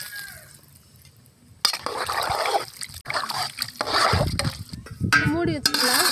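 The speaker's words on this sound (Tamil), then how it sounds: "குழம்புக்கு தேவையான தண்ணி சேர்த்துக்கலாம்." Water is poured into a pot of country chicken curry, a sudden rushing splash that keeps on as a steady splatter and trickle, with a few light clinks from the pot toward the end.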